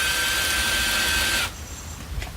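A power drill drives a deck screw into OSB board while building a chicken coop, a steady whine for about a second and a half that stops abruptly, followed by a faint click.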